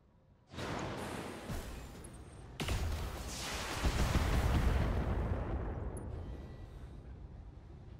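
Mech weapons firing in the BattleTech video game, heavy booming blasts and crackling bursts that swell into a dense roar before tapering off, loud and with no talk.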